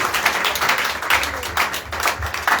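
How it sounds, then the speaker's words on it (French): Congregation applauding during a combat prayer service, with a dense, steady patter of clapping throughout, fairly close and moderately loud, its intensity rising and falling slightly. "Applaudis."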